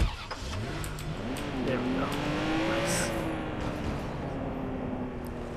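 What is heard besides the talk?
car engine driving in Watch Dogs 2 video game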